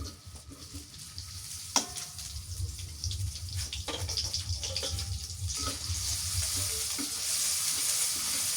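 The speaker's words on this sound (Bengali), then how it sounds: "পেঁয়াজ কুচি দিয়ে দিচ্ছি" Chopped onion is dropped into hot oil and fries with a loud, close, continuous sizzle that swells and settles into a steady hiss, dotted with a few sharper crackles, and no talking.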